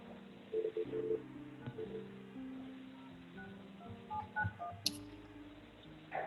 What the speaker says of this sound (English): Oh no, I dialed the wrong number.